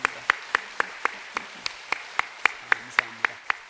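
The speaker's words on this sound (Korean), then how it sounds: "모두를 위해서 우리 축복의 박수 한번 하겠습니다" A church congregation claps in slow, rhythmic unison at a Korean service, about a dozen evenly spaced, crisp claps, fairly close and moderately quiet, with faint murmuring voices underneath.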